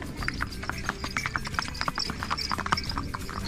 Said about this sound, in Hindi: घोड़ा दौड़ता ही है।